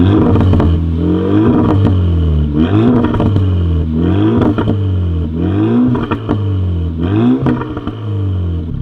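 A stock Renault Megane R.S. Trophy engine is revved repeatedly, with about six loud, close blips that climb and drop back in a regular rhythm, mechanical clatter between them, and no talking.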